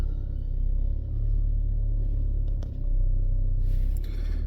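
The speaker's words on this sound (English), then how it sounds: "I'm in reverse just a little bit." An RV's engine idles and rumbles steadily in reverse, a loud continuous low drone with a brief dip partway through and some faint higher clatter near the end.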